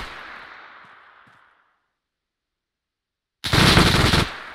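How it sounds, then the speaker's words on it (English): An MG42 machine gun fires in the video game ARMA 3: a fading tail of earlier gunfire trails into silence, then a loud, close, sustained burst of rapid automatic fire erupts near the end. "Is it an MG42?"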